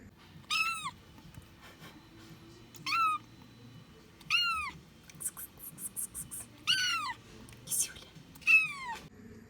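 A young cat meows about six times in short, high, plaintive cries with quiet pauses between them, close and fairly soft.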